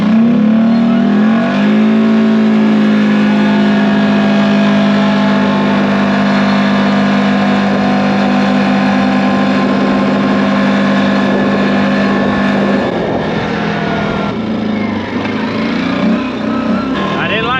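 A 450 off-road vehicle fitted with a CVTECH clutch accelerates hard in a race, its engine holding a loud, steady drone for about eleven seconds before easing off, with voices talking over it throughout.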